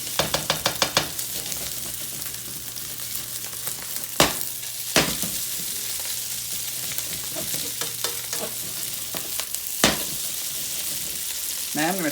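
Rice frying in oil in a pan, a steady close sizzle broken by sharp scraping and stirring strokes of a utensil against the pan, with a few louder clanks scattered throughout.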